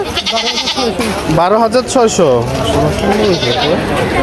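A castrated goat bleats at the crowded Sonir Akhra cattle market during the Qurbani season. Its short, wavering bleats repeat close by and mix with steady, overlapping chatter from the people around it.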